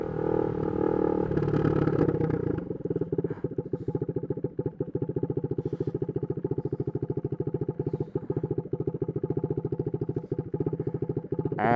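A straight-piped 2022 Husqvarna Svartpilen 401 single-cylinder motorcycle being ridden, loud and close, opening with a hard rev before settling into a steady, rapid pulsing exhaust note that holds throughout with small throttle variations.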